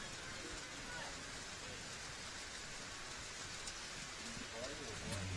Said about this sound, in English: there's some rain on a tin roof here above us, and it's just got a little bit noisier once again